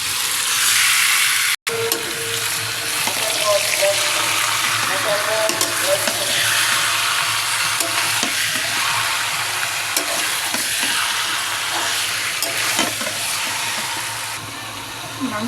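Chicken pieces drop into spice paste frying in a pan, giving a loud, steady sizzle with stirring scrapes throughout and a brief cut near the start.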